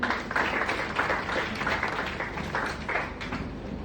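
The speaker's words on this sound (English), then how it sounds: "So can we have applause for that team as well?" An audience applauding a development team at a hackathon and innovation demo day, a continuous moderate wash of many hands clapping with no talking over it.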